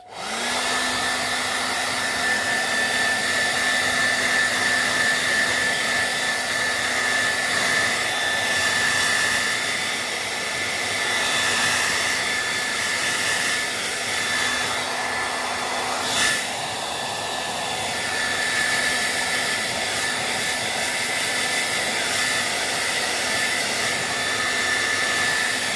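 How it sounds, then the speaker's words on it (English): A hairdryer blows steadily on a watercolour seascape wash in a bedroom, a continuous loud whooshing drone with a faint steady whine, running alone for nearly half a minute. "So I'll just get the hairdryer."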